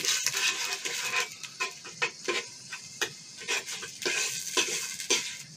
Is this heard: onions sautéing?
yes